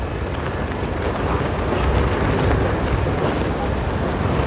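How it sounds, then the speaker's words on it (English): Union Pacific hump engines creep along at walking speed in the North Platte yard in Nebraska, a steady, dense low rumble with a wind-like roar and no voices. "Hump engines at walking speed."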